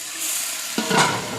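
A sharp burst of sizzling as cumin seeds hit hot oil, rising into loud crackling frying after a quieter stretch.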